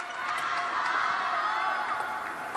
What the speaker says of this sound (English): you can hear the crowd really getting behind them as well